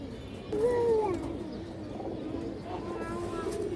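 Racing pigeons of good bloodline coo close by, one clear rolling coo rising early and softer cooing continuing after it over a low background hum.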